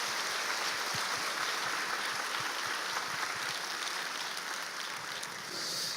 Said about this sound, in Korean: 우리 박수 한 번만 더 부탁드리겠습니다.